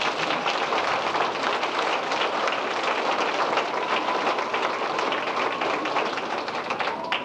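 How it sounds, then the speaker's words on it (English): Steady, dense applause from a large crowd at a high school band Christmas concert, many hands clapping continuously at an even level throughout. "So let's give them another round of applause."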